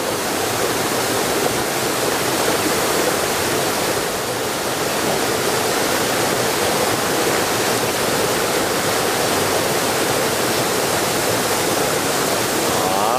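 The Salto El Caleyu waterfall in Cabrales, Asturias, roars as a loud, unbroken wash of falling water, heard close and alone.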